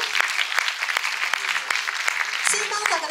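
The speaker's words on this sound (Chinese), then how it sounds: "掌声欢迎 Ricky， 有请" Audience applause greets a presenter at an award ceremony for micro-films, steady clapping from a crowd with a few sharper nearby claps and brief voices cutting in toward the end.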